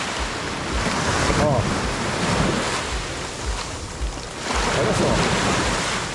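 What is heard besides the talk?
sea waves crashing at high tide, Praia dos Carneiros beach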